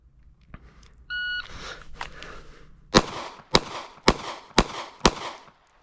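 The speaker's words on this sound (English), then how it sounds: "Second string of fire here." An electronic shot-timer beep followed by five sharp, loud Glock 42 pistol shots fired in quick, evenly spaced succession on a shooting range.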